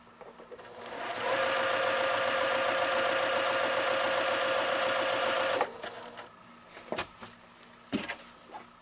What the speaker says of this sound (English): I'll go ahead and back stitch, and that locks my stitches